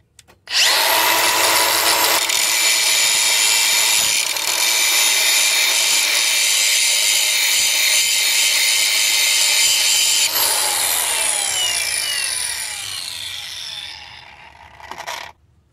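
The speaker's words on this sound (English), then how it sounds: "So I'm gonna grind it here a little bit, just very little, so I can line it up with the holes there" A power grinder working on a motor mount bracket for a Toyota Sienna 3.3 engine mount replacement, a loud continuous high whine held for about ten seconds, then winding down, close and without talk.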